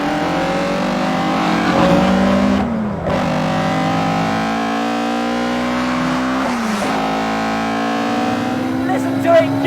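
MST Escort MKI rally car, a retro Ford Escort, revving hard with rising engine pitch and two brief gear-change dips, loud and close, with a voice speaking over the engine.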